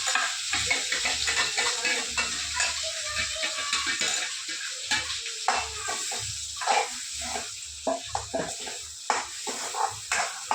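Ground masala paste for sprouted yellow moth beans fries in hot oil while being stirred, a steady close sizzle broken by repeated scraping strokes of the spoon against the pan.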